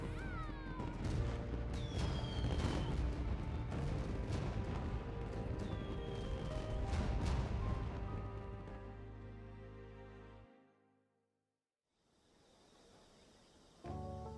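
Fireworks exploding in the video game Persona 5 Strikers, a dense continuous rumble of bursts and booms with whistling rising streaks under music, loud throughout before fading to near silence and returning briefly at the end.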